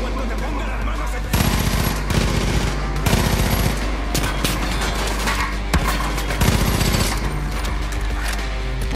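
Rapid bursts of automatic gunfire in the video game Far Cry 5, loud and dense over a constant music or ambience bed, with repeated volleys across the clip.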